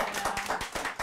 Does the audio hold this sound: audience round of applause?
yes